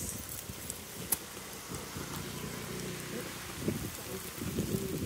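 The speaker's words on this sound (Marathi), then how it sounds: "पाऊस" Steady rain falling outdoors during Ganesh festival visits in Pen, a continuous soft hiss of drops with faint voices murmuring in the background.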